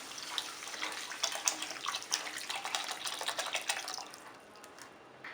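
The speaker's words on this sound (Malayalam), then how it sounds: "ഇനി ആവശ്യത്തിന് വെള്ളം ചേർത്ത് നല്ലതുപോലെ മിക്സ് ചെയ്യാം." Water poured into a sambar mix in a cooking pot, a steady splashing and gurgling stream lasting about four seconds before tapering off.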